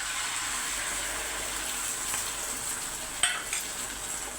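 An egg omelette sizzles in a hot oiled pan, giving a steady, bright hiss of frying with a short clink of a utensil near the end.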